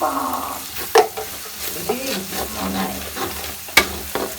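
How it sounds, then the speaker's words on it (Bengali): Spices with turmeric stirred in a hot frying pan: a spoon scrapes and turns the mixture over a steady sizzle, with a few sharp clinks against the pan, close and fairly loud. "আর এখন আমি একটু নাড়ে তাড়াই দিচ্ছি"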